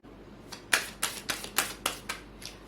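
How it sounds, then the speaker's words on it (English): Tarot cards are shuffled close up, a series of about seven crisp riffling bursts in a steady rhythm, each sharp at the onset and fading quickly, with no talking. "Also, I am shuffling live,"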